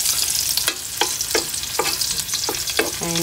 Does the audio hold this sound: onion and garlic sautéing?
yes